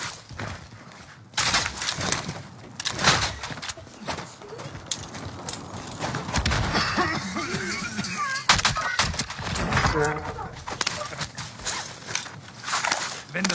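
Gunfire in a first-person video game comes in sharp bursts and single shots, some of them quick rapid-fire strings, mixed with shouted voices and footsteps.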